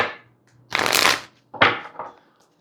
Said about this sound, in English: Okay, big shuffle, will do.